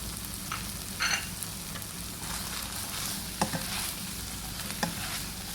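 Glass noodles with egg, minced pork, tomato and vegetables stir-frying in a pan, soft continuous sizzle with intermittent scrapes and clinks of the stirring utensil, no voices.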